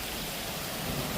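Heavy rain pours down steadily in a Philippine neighborhood, a dense, loud hiss of rainfall with a low thunder rumble rolling underneath during the storm.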